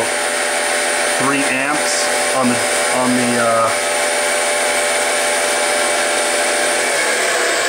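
A G0602 mill spindle motor runs with no load at a steady, even whine with a high-pitched electrical tone throughout, while someone speaks briefly near the start.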